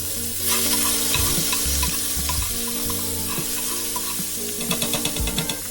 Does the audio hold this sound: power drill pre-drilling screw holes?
no